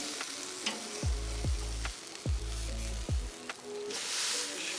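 A chuck roast grilled cheese panini sizzles steadily on a grill, a constant frying hiss under repeated low thumps and scrapes as the sandwich is handled and pressed.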